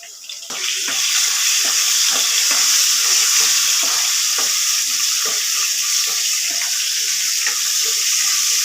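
Crushed garlic frying in a pan for tomato dal gives a loud, continuous close sizzle with small crackles running through it, steady from start to finish.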